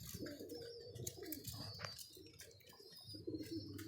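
Pigeons kept in a breeding setup coo repeatedly at close range, soft throaty calls overlapping with occasional chirps and light rustling.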